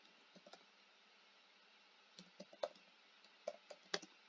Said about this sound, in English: maybe I better type it